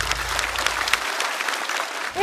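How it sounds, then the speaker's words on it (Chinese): An audience at a stand-up comedy show claps in a dense, steady burst of applause that stays loud, then eases off at the very end. "再次掌声送给"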